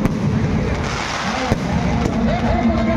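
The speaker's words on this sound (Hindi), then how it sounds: "यहाँ पे आतिशबाजी चालू हो चुका है," Fireworks at a crowded Ravan Dahan festival ground in a stadium make a steady dense crackle and rumble with a sharp pop, with crowd noise and a voice underneath.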